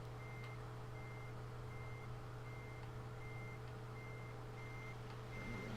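Repeating reversing beeps from a truck backing up a trailer in a trucking video game, evenly spaced tones over a steady low engine drone.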